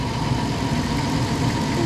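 A 2007 Dodge Caravan engine idles steadily at low revs, a continuous close rumble with faint rhythmic knocking and vibration, with no talk.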